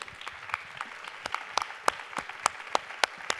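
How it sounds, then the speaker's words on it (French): Sparse, scattered clapping from a small group, individual claps distinct rather than a dense roar, fairly close. "on vous demandera d'applaudir du coup tout seul"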